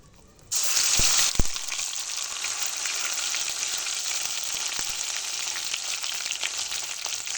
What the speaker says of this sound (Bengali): এই তেলের মধ্যেই দিয়ে দেবো শুটকি মাছ।